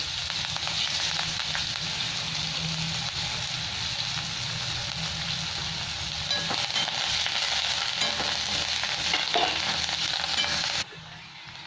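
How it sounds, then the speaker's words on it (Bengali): Onion and curry leaves fry together in a pan, a steady broadband sizzle holding for several seconds with faint stirring scrapes, cutting down abruptly near the end. "পেঁয়াজ আর কারি পাতা একসাথে আমি ভেজে নিচ্ছি।"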